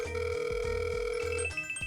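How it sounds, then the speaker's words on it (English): Outgoing call ringback on a Pixel 3a running postmarketOS over 4G: a steady, repeating ring tone with a sustained tonal hum, clear and close, and no voice answering. "It's ringing, but nothing on the other line."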